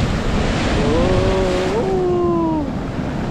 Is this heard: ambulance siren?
no